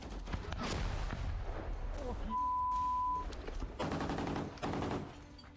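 Bursts of gunfire crack through a noisy military combat scene with voices shouting in Ukrainian, several sharp reports clustered near the end over a steady, loud background.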